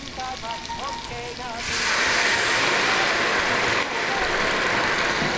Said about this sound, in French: ça va nous prendre un peu de vin blanc pour déglacer